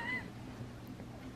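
A cat gives one short, faint meow at the start, heard over a steady indoor background hum with no talk.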